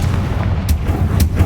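A Confringo spell explodes in a video game: two sharp booms ring out over a continuous heavy rumble, close and loud.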